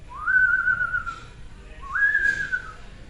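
A person whistles an imitation of a screech owl call: two eerie, rising-then-level whistled notes, each lasting about a second, separated by a pause and set over a faint background murmur.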